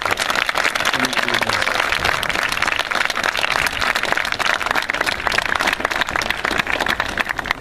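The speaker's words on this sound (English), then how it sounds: "let's give all our volunteer services and Lifeline and the Sheriff's Department, everybody, that's a big round of applause." A big crowd applauds at an outdoor mock drunk and distracted driving demonstration run by a county fire awareness council, a dense, steady wash of clapping that holds for the whole stretch with a few voices mixed in.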